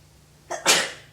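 A single sharp sneeze, a quick inhale followed by an explosive burst, close and loud against a quiet background.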